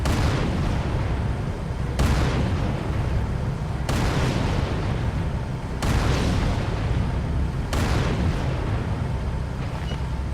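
Tank cannon fire in Halo 3, five heavy booming shots spaced roughly every two seconds, each a sharp loud blast trailing into rumble over a continuous low engine drone.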